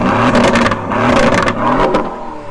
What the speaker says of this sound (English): I'll just sneak back to the exhaust and you give it a wee rev